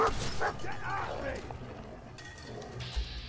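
A dog in the video game Fallout 4 gives a couple of short yipping barks and whimpers near the start, amid game sound effects and a faint clink, with a person talking over the action.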